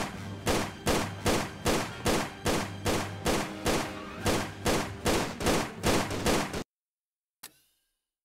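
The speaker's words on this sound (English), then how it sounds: "I guess I'll just keep shooting him" Rhythmic, evenly spaced gunshots fire in Tomb Raider: The Angel of Darkness, about a dozen loud close reports in steady succession before cutting abruptly to silence.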